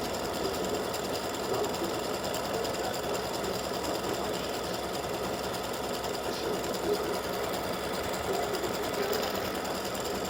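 A freestanding-lace embroidery machine runs a satin stitch around the handle of a St Patrick's Day beer mug earring design, its steady, even whirr continuous and close for the whole stretch with no talk.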